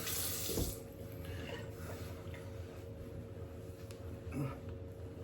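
Hot water runs steadily from a tap into a sink while rinsing after a straight razor shave, a continuous close splashing flow with a brief louder splash early on.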